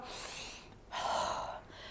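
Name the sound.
a person breathing in, demonstrating a breath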